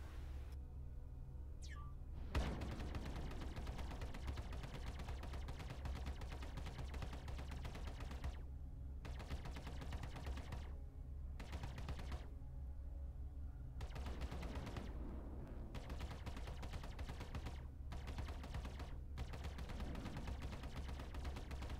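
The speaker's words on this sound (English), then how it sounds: "Our next test is with the stock Hornet while firing its two Badger repeaters" Rapid bursts from a stock Hornet's two Badger repeaters in Star Citizen, fast rattling gunfire in long streams broken by short silent pauses, fairly quiet and even.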